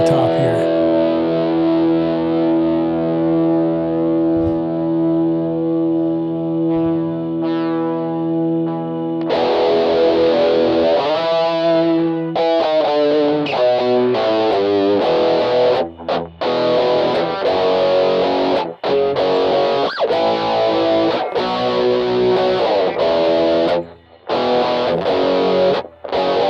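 Electric guitar played through an MXR Rockman X100 pedal with compression, a sustained chord ringing out before choppy, palm-muted riffs with even, squashed dynamics and clear tone.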